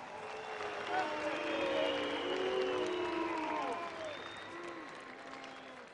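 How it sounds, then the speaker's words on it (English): Moscow arena crowd at an M-1 Challenge MMA event reacting to a split decision, a dense wash of applause, cheers and scattered whistles that swells and then slowly fades, with an announcer talking over it. "A bemused reaction from this Moscow crowd"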